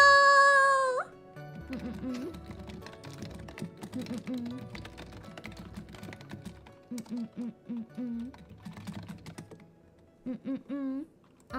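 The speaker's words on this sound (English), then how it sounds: "I'm typing secret things to Akka right now." Fast, uneven clatter of keys on a computer keyboard, close and fairly quiet. Bursts of typing break off into short pauses, and a brief tonal sound opens the passage.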